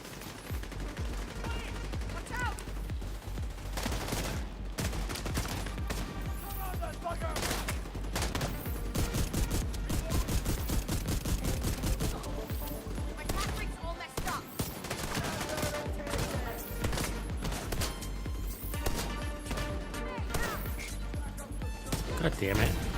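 Rapid pistol gunfire from The Division 2 video game, dense bursts of shots running nearly nonstop and loud, with a player's voice over the shooting.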